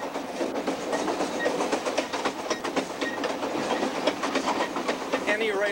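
A diesel locomotive train runs along rails on a line cut through solid rock in Canada, with a steady rumble and a rapid clickety-clack rhythm heard close and loud throughout, with no talking.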